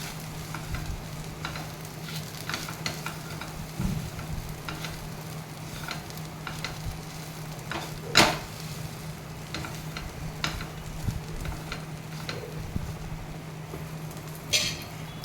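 Raw banana and yam pieces being stirred with masala in a frying pan, with steady soft sizzling under repeated scraping strokes of the spoon, a few sharper clinks standing out, and no talking.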